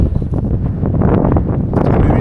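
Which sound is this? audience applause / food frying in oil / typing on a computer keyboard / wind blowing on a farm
wind blowing on a farm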